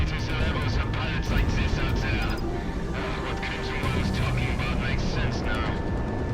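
Fighter jets in the Project Wingman flight game keep up a dense, steady engine roar with scattered crashes and blasts, loud and continuous throughout, while a player talks over the action.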